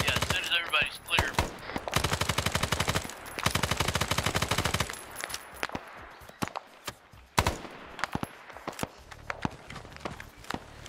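An RPD machine gun fires from close by in the video game SOG on the Ground, in long rapid bursts and shorter volleys mixed with distant shots, footsteps and movement.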